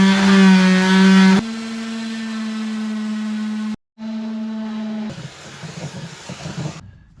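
A power sander works cured fiberglass on a damaged Jacuzzi tub floor, giving a loud, steady motor whine that cuts out briefly, restarts, then turns to a rougher, uneven grinding near the end.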